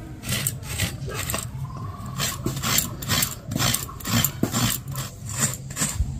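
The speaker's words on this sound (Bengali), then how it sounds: "এটা এবার ভালো করে কুড়ে নেব।" A broken coconut being grated, repeated rhythmic rasping strokes close up, each scrape a short bright burst, continuing steadily throughout.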